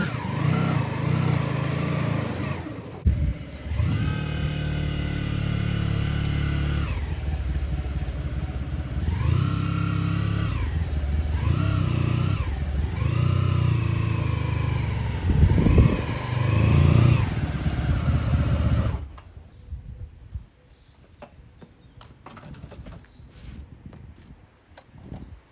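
A Honda Pan European ST1100 motorcycle engine runs steadily and loud up close for about twenty seconds, with rising and falling revs, before cutting out to quiet background noise.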